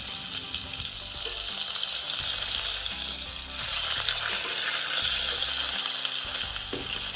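A deer testicle frying in a hot pan, a loud close sizzle that crackles steadily with small pops and shifts as it is turned, alone without voices.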